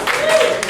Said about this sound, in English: You can clap for that if you want.